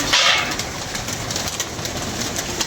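Pigeons cooing near where they feed on scattered grain outdoors, soft repeated throaty coos over a steady background hum.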